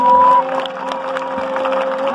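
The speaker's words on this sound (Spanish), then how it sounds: "Alguien debe aplaudir al Rey de Reyes." Congregation at an evangelistic salvation and miracles crusade applauding in a soft, diffuse patter beneath sustained tones, moderately loud and steady.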